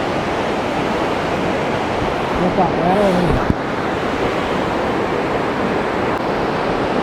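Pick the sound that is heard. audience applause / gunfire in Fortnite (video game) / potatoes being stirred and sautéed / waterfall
waterfall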